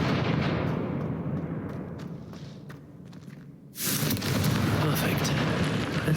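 A Confringo spell explosion from the Hogwarts Legacy video game: a rumbling blast that decays over several seconds, then a sudden loud burst of broadband crackle and roar.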